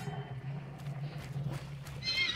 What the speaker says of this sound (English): Shut up, damn horse.